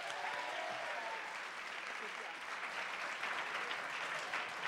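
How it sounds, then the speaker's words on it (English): The audience at a mayoral debate applauds in a steady, even wash of clapping that fills the room at moderate distance and carries on without a break. "let's give them a round of applause."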